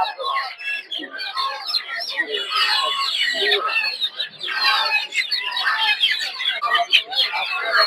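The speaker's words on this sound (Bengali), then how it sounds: "এগুলো হচ্ছে বড় দেশি মুরগি" Many large native chickens cluck and squawk in a dense, continuous chorus close by at a weekly market, busy and overlapping like a crowded poultry stall, with no clear talking.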